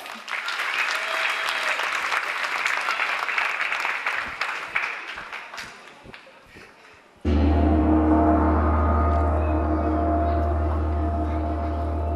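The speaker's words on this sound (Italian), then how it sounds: "Facciamo un applauso" An audience at a dance school recital applauds steadily, the clapping fading somewhat before music with a heavy low beat starts up abruptly.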